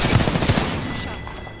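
Rapid automatic gunfire in Apex Legends, a loud burst of close shots in quick succession that tails off into a fading echo.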